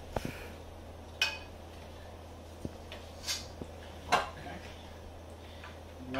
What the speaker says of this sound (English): we are gonna scoop our balls of cookie right onto the sheet pan